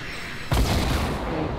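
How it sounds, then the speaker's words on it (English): A grenade blast in a video game shooter, one sudden loud boom after a quiet moment, followed by a sustained rumbling roar that fades slowly. "I'm gonna throw grenades at him then"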